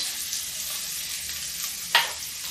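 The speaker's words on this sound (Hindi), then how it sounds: "इसको भून लेते हैं प्याज को" Onion frying in oil spiced with cumin, cinnamon and garam masala gives a soft, steady sizzle, with one brief brighter hiss near the end as it is stirred.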